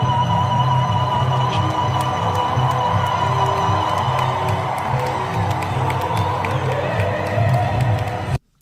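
A large crowd cheering and shouting outside Madison Square Garden, a dense continuous roar with scattered whoops and claps, loud and sustained before cutting off abruptly.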